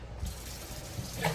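Water runs from a sink tap while dill relish is rinsed, a brief, soft, steady splashing rush close by.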